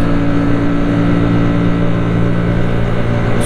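Hyosung GV125X 125cc V-twin motorcycle engine revving up at high rpm, a steady loud droning hum with strong low harmonics held close throughout, no speech.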